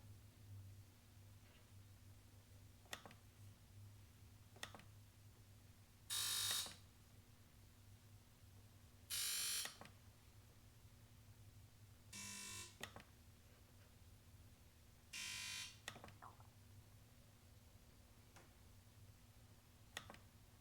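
A GTX Di personal watercraft's electronic beeper sounds during a maintenance test: four short, shrill bursts spaced about three seconds apart over faint ticking and a low hum, with no talk.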